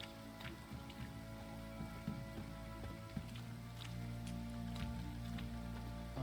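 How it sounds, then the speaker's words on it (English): Steady rain patters down in The Witcher 3: Wild Hunt, a soft continuous hiss with scattered drop ticks over low ambient game hum, quiet and unbroken by speech. "the rain looks like it's going to be clearing up"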